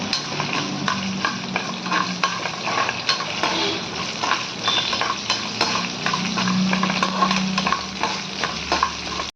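Urad dal, coriander seeds and cumin fry and sizzle in a pan for curry leaf powder, with steady crackling and frequent stirring scrapes throughout, close and fairly loud, no talking.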